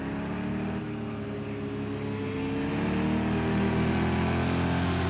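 Porsche and Corvette GTE race cars lapping the Indianapolis road course in a racing game, a continuous loud engine drone that holds steady and grows slightly louder near the end.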